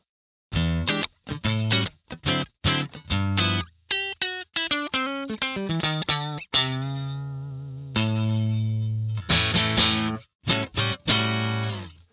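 A clean electric guitar through a Marty Friedman signature Beyond tube preamp pedal plays a lively phrase of quick plucked notes and a few sustained chords, warm and full, with no voices.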